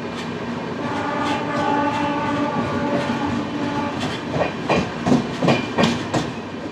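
A train pulls into Santragachi station with a steady, loud rumble and long sustained tones, then sharper rhythmic clacks of wheels over rail joints near the end.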